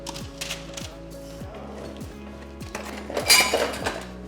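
A metal spoon scrapes and clinks against sheet pans while roasted sweet potatoes and beets are spread out in a kitchen, giving repeated close metallic scrapes and taps with a brighter clatter near the end.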